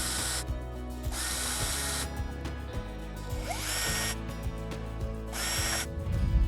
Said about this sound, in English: Now we can pre-drill our holes in the template.